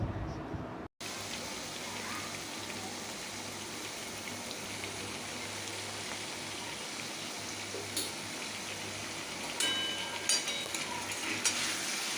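Potatoes and pointed gourd fry in a pan with salt and turmeric, a steady close sizzle running throughout with faint stirring scrapes, brief clatter late on, and no talk.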